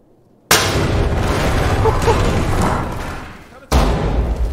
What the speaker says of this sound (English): Oh, he's gonna put the C4. Sounds so good. Fire in the hole.